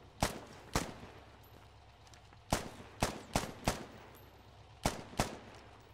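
Gunfire from the military shooter game Squad, with a string of sharp, loud shots spaced out in irregular single cracks and quick pairs over a low steady background rumble.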